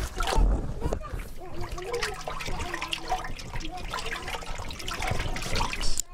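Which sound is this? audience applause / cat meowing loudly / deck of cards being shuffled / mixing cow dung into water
mixing cow dung into water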